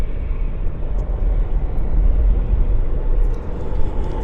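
A WestJet airliner rolls for takeoff at Vancouver International Airport, its jet engines a loud, steady low rumble and roar heard from a distance with no talk over it.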